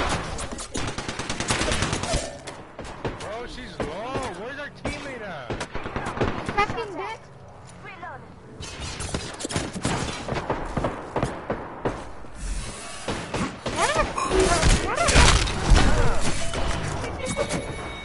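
Gunfire in Fortnite crackles in quick bursts and single shots amid game effects, with a player talking over much of it, loud and busy throughout.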